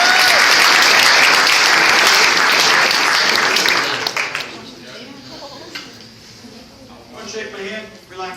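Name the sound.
audience round of applause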